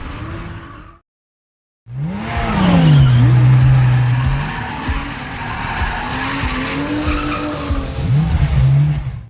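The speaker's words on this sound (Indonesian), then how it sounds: "terlihat aksi kejar-kejaran antara dua mobil Nissan 240 SX yang dikendarai oleh pembalap misterius" Two Nissan 240SX cars race in an underground street chase, tires skidding and squealing loudly with engine roar and gliding pitch sweeps, after a brief silent gap near the start.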